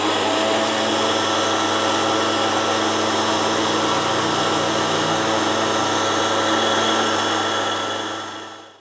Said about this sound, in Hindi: खशखाश को हम जो ग्राइंड कर रहे थे तो वो मैंने ग्राइंड करने के बाद ना इस ग्राइंडर में जो हमने ग्राइंड किया है